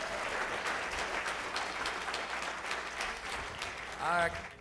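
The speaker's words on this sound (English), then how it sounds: "Let's give him a round of applause" A crowd at an awards ceremony applauds continuously, a thick even wash of clapping at moderate distance, with a voice briefly cutting through near the end.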